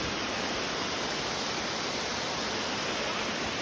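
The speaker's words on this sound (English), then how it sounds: "And here is the waterfall." The waterfall at Lydford Gorge on Dartmoor roars steadily as a dense, unbroken broadband rush of falling water, loud and close, with no voices over it.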